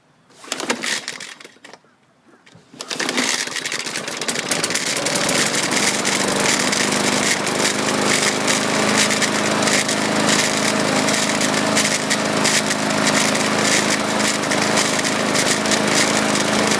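A 2014 Bolens push mower's small gasoline engine starts after a few seconds of handling noises, then runs in a loud, steady drone that keeps going without stopping.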